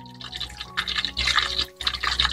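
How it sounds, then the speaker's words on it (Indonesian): Hot oil sizzles and hisses in uneven bursts as it is ladled repeatedly over shrimp crackers (rempeyek udang) frying in a wok, close by with no talking. "kita siram-siramkan peyeknya dengan minyak seperti ini ya, supaya peyeknya tidak lengket di wajan"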